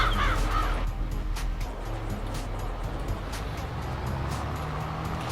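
Crows caw in Farming Simulator 22, several harsh calls repeating irregularly over a steady rural ambience with a low engine-like rumble underneath.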